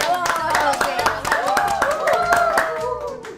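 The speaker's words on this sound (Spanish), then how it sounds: "yo les pido fuertes aplausos" Loud, sustained applause from a crowd with cheering voices mixed in, dense clapping throughout.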